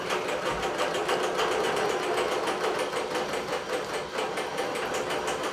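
A sewing machine runs steadily, stitching through the many layers of a quilt's edge to tuck in prairie points, with a continuous close-up mechanical whir and no talking.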